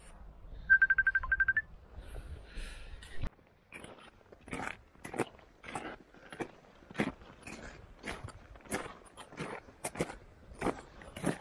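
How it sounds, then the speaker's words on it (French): A mobile phone rings briefly with a bright, pulsing electronic tone during a high-mountain trip in the Monte Rosa massif. Clicking and crunching sounds follow. "le téléphone il sonne."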